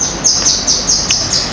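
A white-rumped shama (murai batu), a prized competition songbird, sings a rapid run of bright, repeated high whistles and chirps, close and loud, with no voices.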